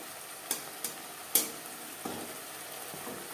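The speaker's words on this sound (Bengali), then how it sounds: "চার পাঁচ মিনিট লো টু মিডিয়াম ফ্লেমে মশলা বেশ ভালো করে কষিয়ে নেব" Spice paste fries gently over a low to medium flame for a Bengali parshe fish curry, a soft continuous sizzle broken by a few light spatula taps and scrapes, faint and close with no voices.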